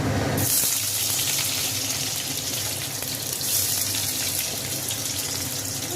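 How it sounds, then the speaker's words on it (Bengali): Chopped onion hits a hot wok for chow mein and bursts into a loud, steady hiss of sizzling oil that holds evenly for several seconds, close up and with no talking. "কড়া গরম হয়ে গেছে, প্রথমে পেঁয়াজটা দেবো।"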